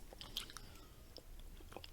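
Someone chews gum from a British military ration pack, giving soft, close, irregular wet chewing clicks and smacks at a low level, with no speech.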